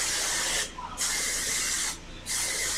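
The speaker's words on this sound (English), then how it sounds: "I'm going to take the hairspray and spray" Hairspray from an aerosol can misted close up over a Barbie doll's teased Texas-style hairdo, a loud steady hiss in three bursts split by two brief pauses.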